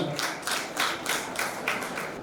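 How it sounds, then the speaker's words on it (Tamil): An audience at a college debate held for Vinayagar Chaturthi claps in a steady rhythm, producing evenly spaced, moderately loud pulses of clapping. "உங்களது கைத்தட்டுக்களை அழைக்கிறேன், வாங்க."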